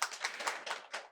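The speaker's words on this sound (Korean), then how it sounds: "박수로 환영해 주십시오." A short burst of applause from a small audience welcoming the next discussant at a Korean learning-city results-sharing forum: a handful of light, uneven hand claps over about a second, fairly faint and close.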